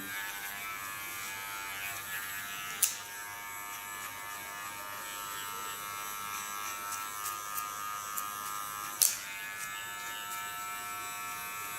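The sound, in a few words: small electric hair clipper shaving the nape contour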